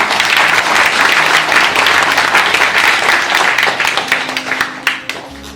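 An audience at a Shivaji Maharaj birth-anniversary celebration applauds three teachers, with loud, dense clapping that runs steadily and then thins into scattered claps near the end.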